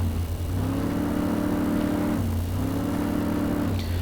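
A video game car drifting in a parking lot, its engine revving in two sustained, even surges with a brief dip between, a droning mid-pitched growl close and steady throughout, no voices.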